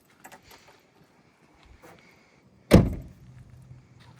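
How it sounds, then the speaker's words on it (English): A few light clicks and rattles, then one solid thunk of a 1959 Cadillac coupe's door or trunk shutting, close and fairly loud, with a short fading rumble. "Doors and trunk shut really nice."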